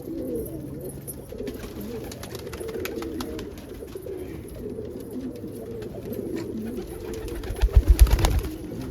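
Indian fantail pigeons coo in low, throaty, rolling murmurs throughout, ending in a louder burst of close cooing near the end.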